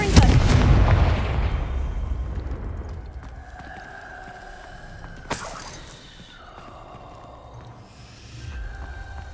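A Confringo blasting spell in the video game Hogwarts Legacy: a loud booming explosion at the start that rumbles and fades, followed by a sharp crack midway and ringing tonal game effects.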